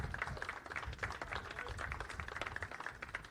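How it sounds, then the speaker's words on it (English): Race fans at Motorsport Park Hastings applaud the Bagger Racing League Round 4 podium, a steady faint wash of crowd clapping heard from a distance that carries on throughout. "How about a nice round of applause from all the race fans out there?"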